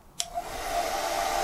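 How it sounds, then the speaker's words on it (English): A hair dryer powered by a Bluetti AC70 portable power station switches on with a click, then settles into a steady, moderately loud whirring blow. "Do another test for the powerlifting mode with a hairdryer"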